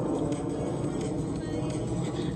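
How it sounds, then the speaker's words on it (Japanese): An airplane passes overhead near a waterfront with a hotel and a floating restaurant, a steady, loud broadband roar that fills the whole moment without fading. "ちょっと飛行機がうるさいですね"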